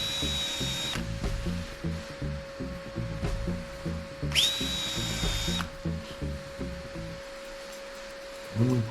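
A power drill drives a screw through a jig, the motor whining in a few sustained high runs over rapid rhythmic ratcheting clatter, close and loud, ending with a short pause and a final whir.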